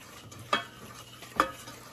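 Clarified butter and flour stirred into a roux in a pan, with two distinct scraping strokes about a second apart over a faint, steady low background.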